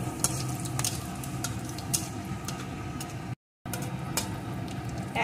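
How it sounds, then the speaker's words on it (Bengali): Dried red chilli, whole garam masala and cumin seeds frying in hot oil, a steady soft sizzle with faint crackles, close and continuous, with a brief dropout near the end. "এখন ফোড়নগুলোকে সুন্দর করে ভেজে নেব।"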